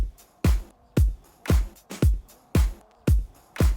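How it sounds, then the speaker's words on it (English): A programmed drum mix from a song plays alone: a steady beat of punchy kick hits roughly every half second with crisp percussion between them and nothing else. "So all of the drums together sound like this."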